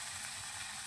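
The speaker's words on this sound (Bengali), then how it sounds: "গাজরগুলো একটু হালকা হালকা করে ভেজে নিই।" Carrots frying gently in hot white oil give off a soft, steady sizzle, faint and close, with no voices.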